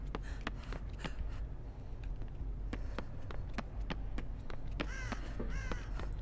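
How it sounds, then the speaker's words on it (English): Crows cawing inside an industrial plant in Dead by Daylight, several harsh caws at a moderate distance over a steady droning rumble, with sharp ticking and footstep-like taps scattered throughout. "Why are there crows inside the plant?"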